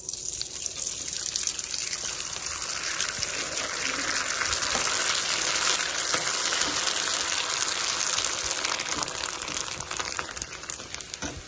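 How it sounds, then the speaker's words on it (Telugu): Rice flour vadiyalu frying in hot oil give a steady, dense sizzle and crackle that holds loud and even from start to finish, with no talking over it. "ఇప్పుడు వేయించుకుందాం టేస్ట్ కోసం"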